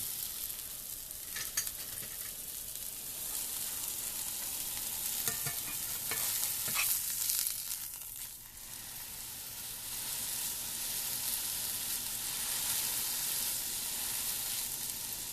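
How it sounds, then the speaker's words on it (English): A cheeseburger patty sizzles steadily in a skillet, a loud continuous frying hiss with a few brief stirring scrapes partway through. "turn my burger around the edge of the skillet"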